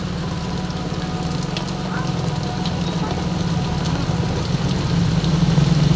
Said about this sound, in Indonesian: Hujan nih, hujan, Wit. Oh, hujannya besar.